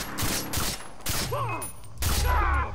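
Gunfire in the video game Far Cry 3, with several sharp, close shots of a high-powered rifle spaced through the short stretch, amid game sound effects and a brief voice-like sweep.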